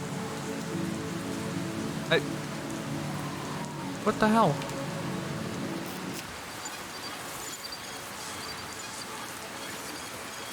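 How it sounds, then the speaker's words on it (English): Steady video game rain ambience hisses continuously in the background while a person speaks briefly over it, the downpour texture unchanged throughout. "Why is it when I alt-tab the rain noise is what stays?"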